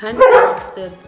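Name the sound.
dog barking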